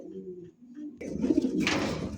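Low, soft cooing of a pair of European Lahori pigeons for about a second, followed by louder rustling and fluttering noise nearby.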